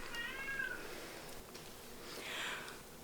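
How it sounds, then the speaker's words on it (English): A pet cat meowing faintly indoors, crying to be let into a room behind a closed door, with a couple of short plaintive calls against quiet room tone. "Sorry if you guys can hear my cat."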